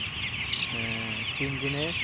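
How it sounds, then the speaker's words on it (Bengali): Three-day-old broiler chicks give a continuous high, wavering chorus of cheeping. Someone speaks briefly over it. "দেখেন সবাই মুরগির বাচ্চা 3 দিনের"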